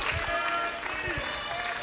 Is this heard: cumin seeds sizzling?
no